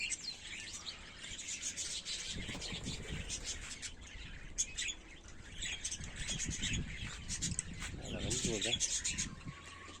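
Canaries and cockatiels in an outdoor aviary in freezing weather, with bright chirps and tweets overlapping steadily at moderate distance alongside soft cooing and rustling, while a person talks over the birds.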